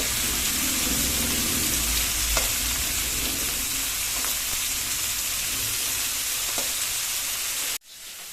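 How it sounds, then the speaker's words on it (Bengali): Prawns frying in a home wok give a steady loud sizzle and hiss with occasional stirring scrapes, continuing until an abrupt cut near the end. "মায়ের কড়াইয়ে চিংড়ি ভাজা প্রায় এখানে কমপ্লিট।"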